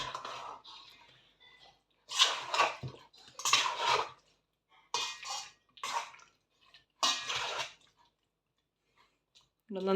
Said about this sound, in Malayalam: ഇത് നന്നായിട്ടൊന്ന് മിക്സ് ചെയ്യാം.